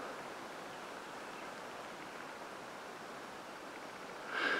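The Bear River flows in the Uinta Mountains, heard from a distance as a soft, steady rushing wash that stays even throughout with no talking.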